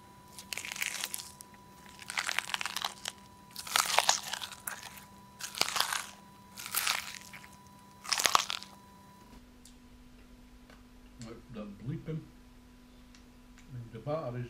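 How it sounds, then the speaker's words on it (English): Someone eating breakfast chews crunchy food at the front of the mouth, producing six loud, evenly spaced crunching bites up close, followed by softer clicks and faint talking near the end. "I chew with the front of my mouth"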